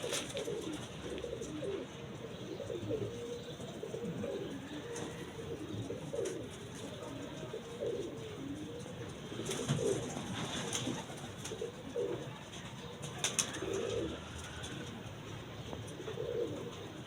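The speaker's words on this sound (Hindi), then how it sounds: "और ये प्योर कबूतर है" Pigeons coo repeatedly in soft, rolling calls close by, over a faint background hiss, with a few sharp clicks and light chirps.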